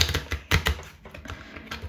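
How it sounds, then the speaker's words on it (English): Tarot cards being shuffled by hand at close range, a quick series of crisp riffling bursts and soft taps with short pauses between them and no talking. "I'm just going to shuffle the cards one more time"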